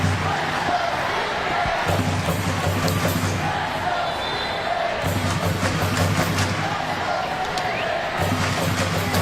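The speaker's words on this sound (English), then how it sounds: "Crowd trying to get behind this Washington Spirit team." A stadium crowd at a women's professional soccer match between Washington Spirit and Portland Thorns roars continuously, with surging cheers and scattered shouts, loud and dense throughout.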